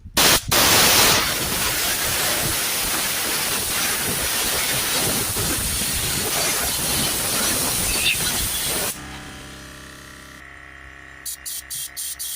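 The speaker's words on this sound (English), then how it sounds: "I'm going to use a blower on an airline just to get any dust out." A compressed-air blower on an airline blasts a loud, steady hiss into the glow plug area of a Vauxhall Opel Astra 1.7 CDTi engine, stopping after about nine seconds, followed by a few short puffs.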